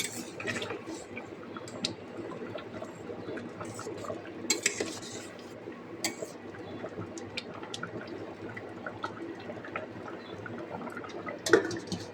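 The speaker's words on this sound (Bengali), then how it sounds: "আবার একটু নেড়ে নিয়ে ঢেকে দেওয়া হলো" Food being stirred in a cooking pot near the end of cooking, with repeated scraping, clinking utensil taps and a louder metallic knock near the end as the lid goes on.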